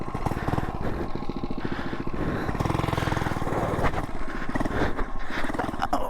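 A cheap small motorcycle bought from Amazon revs hard during a wheelie attempt in the woods, a close, loud, buzzing engine pulsing unevenly with surging throttle throughout.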